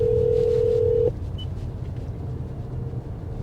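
A steady telephone dial tone from an accidental call sounds loudly for about a second inside a car on a winding country drive, then cuts off, leaving low road rumble and engine noise.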